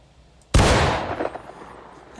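A single loud gunshot from a Springfield 1855 rifle during target practice in the Civil War game War of Rights: a sharp crack followed by a long, decaying rolling echo.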